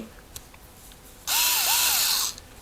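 Xiaomi Mijia 3.6V 5Nm cordless screwdriver whirring as it tightens a screw, a single steady motor burst of about one second with a slight pitch dip mid-run, close and loud against a quiet room.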